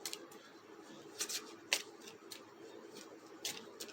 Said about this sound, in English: A few more good shuffles.